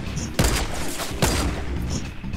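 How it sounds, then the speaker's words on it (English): Gunfire in a Fortnite match, a sustained crackle of shots with two sharper, louder bursts standing out against continuous background game noise, heard alone without talk. "It seems pretty common to hear gunfire where you're at."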